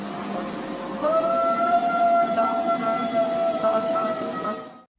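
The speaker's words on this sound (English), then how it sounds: "so I'm wondering if this was just a really old dog trying to howl." An old dog howls at night outdoors, a long wavering tone held for several seconds over rough background noise, with other dogs faintly audible in the distance.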